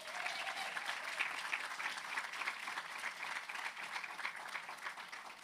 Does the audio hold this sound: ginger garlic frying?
no